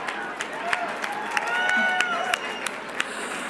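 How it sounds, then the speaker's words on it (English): Crowd at an election-night victory speech clapping and cheering, with sharp whistles cutting through a moderate, steady wash of applause and a few voices. "So can we give him a round of applause?"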